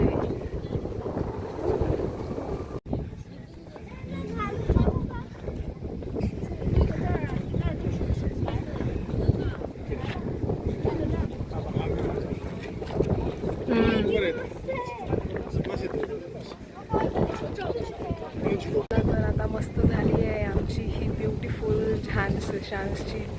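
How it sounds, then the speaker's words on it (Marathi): Cool wind blows outdoors at the Zaanse Schans windmill village in the Netherlands, buffeting the microphone as a steady low rumble while people talk throughout. "मस्त थंडगार हवा चालू आहे."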